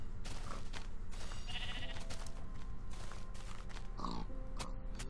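Minecraft sheep bleat repeatedly among other farm animals in the game, several short bleats mixed with grunting pig sounds over a steady background, fairly faint.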